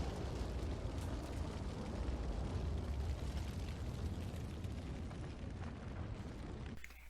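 Fire burning inside a wooden shack in a video game: a dense, continuous roaring crackle that fills the space at steady loudness before cutting off abruptly near the end.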